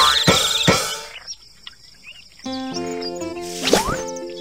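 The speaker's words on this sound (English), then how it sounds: "Keep the birds away from the crops so they don't eat them." Little Panda's Farm Story video game, birds around the crops: cartoonish chirps and tweets with a few plopping effects and short melodic game tones, close and clear.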